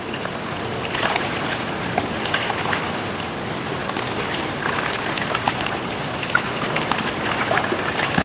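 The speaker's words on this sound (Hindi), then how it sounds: "इसी बीच बरसात शुरू हो गई थी।" Steady rain falls over a river area, a dense even hiss of drops with occasional sharper patters, continuous throughout with no voices.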